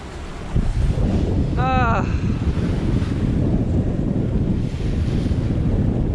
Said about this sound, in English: trying to spill the wind off the sails because it's so windy